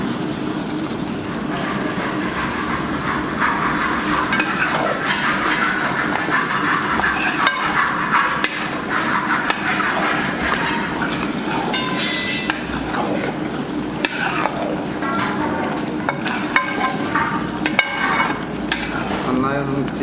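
Stirring chicken curry with curd in a pan, Kerala style, a steady continuous scraping and sizzling texture with occasional clinks, loud and close throughout.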